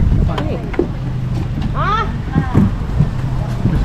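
A wooden outrigger boat (bangka) under way near Polillo Island, Quezon, with steady rumbling motor and water noise plus wind buffeting, as people talk over it nearby.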